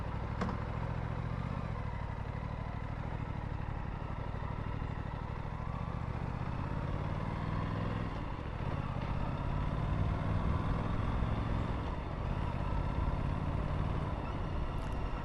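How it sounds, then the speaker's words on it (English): An Aprilia motorcycle engine idles while warming up after a long unridden spell: a steady, loud low rumble holds throughout with slight fluctuations and an occasional faint clatter, with no voices. "I haven't been riding the Aprilia for a long time, just starting it, getting the engine heated"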